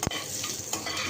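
Cumin seeds fry in hot oil in a pan, a brief steady sizzle with a quick scrape of stirring at the start, close and fairly quiet.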